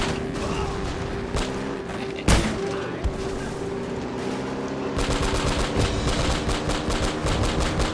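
Gunfire in Uncharted: Drake's Fortune: scattered shots and a sharp single blast early on, then dense, rapid automatic fire in the back half, with voices in the mix.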